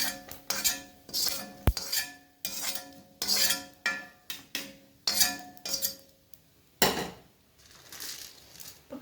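Chana dal roasting in a pan over a low flame gives quiet, intermittent bursts of scraping and rattling as a metal spoon stirs and clinks against the pan, with pauses between strokes.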